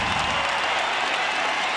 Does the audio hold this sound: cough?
no